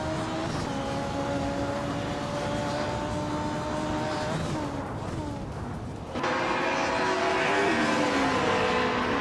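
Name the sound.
race cars driving, including a 1994 Mercedes C180 DTM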